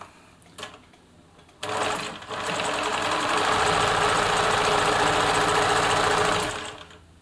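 A Bernina Nova 900 electronic sewing machine runs a wide zigzag stitch, starting with a few clicks, then a steady, close, loud mechanical whir for about five seconds before stopping.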